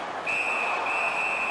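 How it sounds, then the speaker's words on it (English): A referee's whistle stops play at an Anaheim Ducks ice hockey game, sounding as one sustained shrill blast, held and briefly wavering, over the steady wash of arena crowd noise. "That puck is held, and the whistle stops play."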